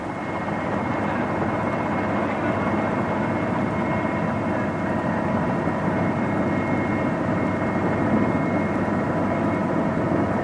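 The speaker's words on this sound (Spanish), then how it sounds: "Al oír el sonido del helicóptero" A helicopter flying over excavation sites near rice paddies in Vietnam, a steady, loud, continuous rotor and engine drone that holds at an even level throughout, with no talk.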